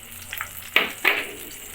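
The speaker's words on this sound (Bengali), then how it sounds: "এখন আমি ফোড়ন দিব" Whole bay leaves, cumin, cardamom and cloves hit hot oil in a wok for a rohu fish curry with cauliflower and potato. A soft crackle comes first, then two loud, close sizzling bursts that fade, with no voices.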